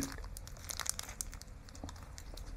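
A plastic wrapper on a 7-Eleven rice ball being pulled open, a quiet close crinkling and crackling of film with a few small tearing rustles over about two seconds.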